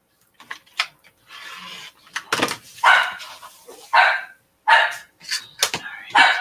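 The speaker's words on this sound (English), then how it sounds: "Jeff, put her collar on her so she doesn't bark all day" A dog barks in a house during sewing work, giving a run of sharp, separate barks and yips at uneven intervals, some close and loud, others lighter, with no talk.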